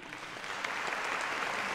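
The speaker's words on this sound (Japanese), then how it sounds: "たくさんの温かい拍手をいただきました" A concert crowd applauds a percussion ensemble before its encore, a soft, steady wash of many hands clapping at a distance, with a few sharper claps standing out.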